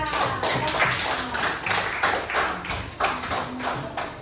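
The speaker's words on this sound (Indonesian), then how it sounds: "Tepuk tangan buat Rahasia" A primary school class claps together for a classmate named Rahasia, a run of sharp, fairly loud hand claps in a loosely rhythmic burst that continues steadily for several seconds in a classroom.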